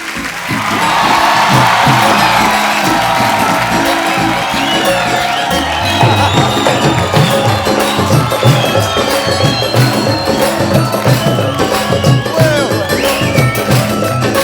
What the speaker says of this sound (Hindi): जोरदार तालियां एक बार मान साहब के लिए।